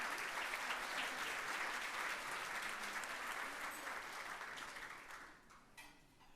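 Audience applause at a community awards ceremony, a sustained wash of clapping from a large crowd that holds steady for several seconds, then thins out and fades toward the end.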